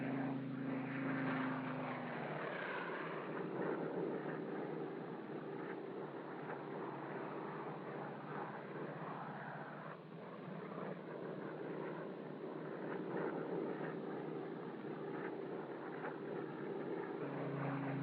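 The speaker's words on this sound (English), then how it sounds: "The rollover, while flying at a speed of 173 knots." A Curtiss seaplane flies a rollover at about 173 knots, its propeller engine giving a continuous, even drone that stays steady throughout, faint and somewhat muffled like an old recording.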